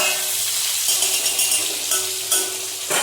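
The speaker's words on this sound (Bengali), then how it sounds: "এটা হচ্ছে পটলের আলু ভাজছি" Steady, close sizzling hiss of potatoes frying in a pan, with a few soft scrapes and shifts in intensity.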